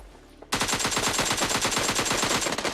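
Automatic gunfire in a mobile shooter game, a rapid burst that starts abruptly after a brief quiet and keeps rattling without pause, loud and close.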